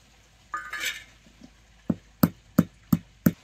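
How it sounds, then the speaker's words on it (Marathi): A brief scraping rub, then five sharp crunching strikes spaced evenly, close and distinct against quiet, as black peppercorns are crushed fine. "आता ही मिरे घेतली ती आता मिरे जरा चिचून घेतो की बारीक"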